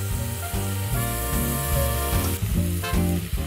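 Shiitake mushrooms and spring onion sizzle steadily in hot oil in a pan for miso soup, a dense, close crackle with bursts of spitting and no talk.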